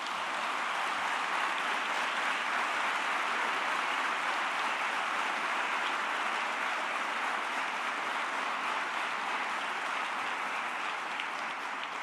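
Steady, dense applause from a large audience at a business executives' conference in Peru, sustained and even throughout with no voices standing out.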